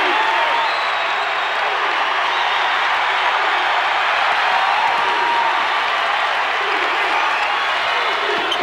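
A packed basketball arena crowd cheers for the Indiana Hoosiers against Michigan, a steady, loud roar of applause and shouting that holds without letup.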